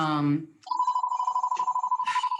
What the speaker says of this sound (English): My office phone always rings.